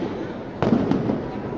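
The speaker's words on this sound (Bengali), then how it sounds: "তো পটকা ফুটতে আসে" A New Year firecracker going off: a single muffled bang partway through, with a brief rumbling tail over steady background noise.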